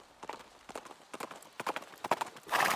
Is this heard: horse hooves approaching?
yes